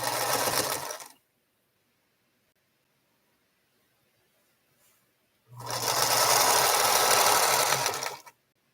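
A home sewing machine runs in two bursts, a brief one and then a longer steady whirring hum lasting a few seconds, loud and close, with near silence between and no talking.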